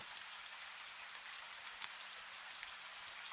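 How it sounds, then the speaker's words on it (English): Steady, soft rainfall fills the background, scattered with small, crisp drop ticks, alone and without any voices. "You have the falling rain"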